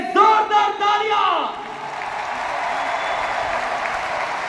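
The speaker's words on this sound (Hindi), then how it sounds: "मुख्य अतिथि डॉक्टर किरण बेदी जी के लिए जोरदार तालियां" A crowd applauds loudly for the chief guest, Dr. Kiran Bedi, at an event. A voice calls out over the start, then the clapping settles into a dense, even wash that carries on alone.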